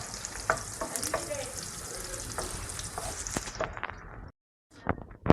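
Onions browning in hot olive oil hiss and crackle steadily in a pan, with scattered pops and stirring scrapes close by, before a short silence and a few faint clinks.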